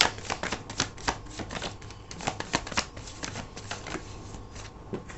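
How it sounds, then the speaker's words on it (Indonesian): Tarot cards being shuffled by hand give quiet, rapid papery riffles and soft clacks in an uneven stream, close up and alone. "aku akan shuffle kartunya lagi ya"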